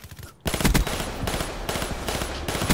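An M16 fires in repeated bursts in Black Ops 3, loud close rapid cracks in clusters after a brief quieter moment, the three-round volleys running back to back.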